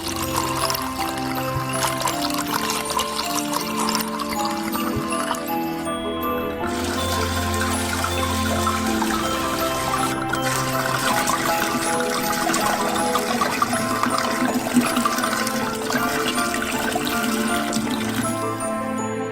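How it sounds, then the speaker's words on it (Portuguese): Wine from six opened bottles poured into a large cooking pot, a continuous splashing, gurgling stream of liquid that runs steadily for the whole stretch with a few brief dips in flow. "Precisamos de uma panela bem grande para despejar todo esse vinho."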